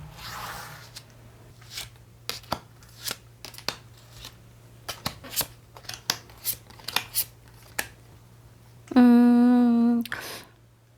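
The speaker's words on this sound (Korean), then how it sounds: "그 이유를 한번 카드 통해서 한번 뽑아보도록 할게요." Tarot cards are shuffled and drawn during a reading: a close, irregular run of crisp flicks, snaps and slides, with no voices, ending with a brief loud sustained tone near the finish.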